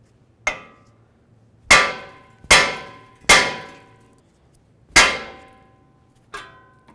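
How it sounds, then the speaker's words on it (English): A hammer strikes the outer tie rod end on a 2006-2010 Ford Explorer to knock it loose from the steering knuckle, landing six sharp metallic clangs, each ringing out and decaying, spaced irregularly with no talk. "we're going to take our hammer, we're going to give this a couple loving bonks"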